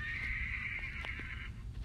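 A horse whinnies in a long, high, wavering call lasting over a second, with steady low rumbling noise underneath.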